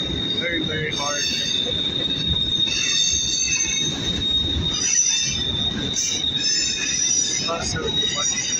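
A Southern Pacific freight train labors hard in El Paso, Texas, its wheels squealing loudly and continuously over a steady rumble, with shrill tones rising and falling throughout, close and dominant.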